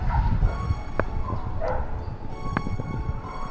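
Dogs bark and yip in a rural animal shelter in the Leszno region, a few sharp individual barks rising over a busy background of kennel noise, fairly close.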